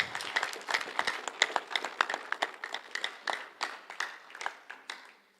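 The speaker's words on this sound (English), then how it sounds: "Just give them a round of applause before we announce the winners." An audience at a job fair main hall claps for the runners-up, a brisk, steady patter of many hands at close-to-mid distance that gradually thins and fades toward the end.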